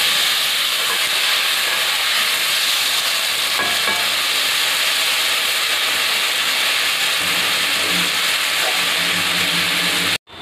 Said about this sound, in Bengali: এই তেলেই এবার আলু কটাও ভেজে নিচ্ছি।